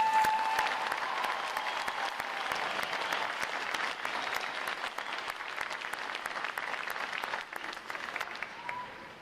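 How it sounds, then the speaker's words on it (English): A large crowd at a U.S. Navy Recruit Training Command boot camp graduation claps steadily in a dense, sustained round of applause, loud and continuous for the whole stretch, tapering slightly near the end. "Ladies and gentlemen, a round of applause for our family and friends."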